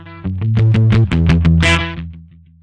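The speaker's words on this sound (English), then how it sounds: "Let's apply some distortion here." A heavily distorted electric guitar through an amp simulator at full distortion plays a short, saturated riff of sustained notes, loud and close, with a harsh buzzing tone.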